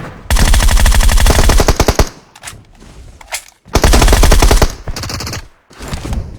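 P90 submachine gun firing in a video game: loud, close, rapid automatic bursts, two long sustained volleys separated by shorter clipped bursts and brief pauses.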